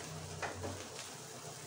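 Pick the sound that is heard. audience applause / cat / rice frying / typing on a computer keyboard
rice frying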